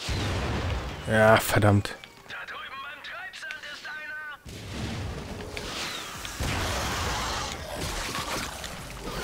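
Grenade blasts in the PS4 Ratchet & Clank remake: a couple of sharp booming explosions with whooshing game effects, followed by layered game sounds, while someone speaks briefly over them.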